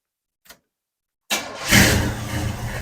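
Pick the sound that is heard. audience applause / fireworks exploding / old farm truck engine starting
old farm truck engine starting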